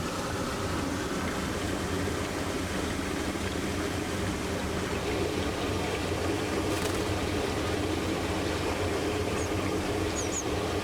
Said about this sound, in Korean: 폭포수 안쪽 가장 깊숙한 곳.